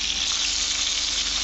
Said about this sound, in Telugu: ఈ ఫిష్ తిప్పేయాలి.